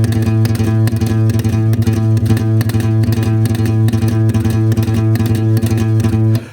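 Bass guitar playing a galloping eighth-and-two-sixteenths rhythm, a steady driving pattern of loud, close, sustained low notes that runs continuously before cutting off at the end.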